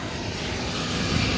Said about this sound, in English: Induced draft motor.